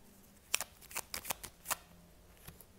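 A deck of tarot cards is cut by hand, giving a handful of soft, quick card slaps and riffles up close during a quiet card reading.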